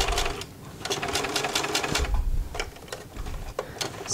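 A sewing machine stitching dress fabric runs in quick rhythmic bursts of close mechanical clatter, pausing briefly between runs as the fabric is turned.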